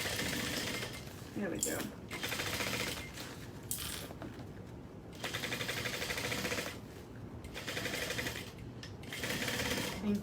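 A sewing machine back stitches a bag handle in rapid mechanical bursts, running for a few seconds, pausing, then starting again, close and clear with brief talk between runs.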